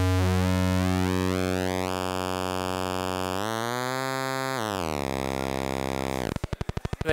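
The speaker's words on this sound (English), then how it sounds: "now it's a square wave." A Dreadbox Chromatic synthesizer module plays a steady, loud tone whose pitch glides and steps over several seconds, then switches to a bright, harsh square wave with rapid pulsing at the end.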